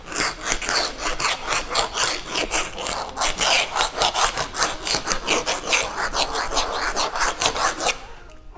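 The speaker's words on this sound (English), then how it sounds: "I'm just going to drag this piece of plastic across the wall and see what that does." A piece of plastic is dragged back and forth across an interior wall painted with scuff-resistant paint, making a steady run of close, rhythmic rasping scrapes, roughly two strokes per second, with no talking.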